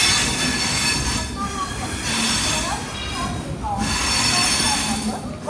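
A train rolls through Guntakal Junction railway station with steady, loud wheel rumble and high squeals of wheels on the rails, continuing throughout at close range.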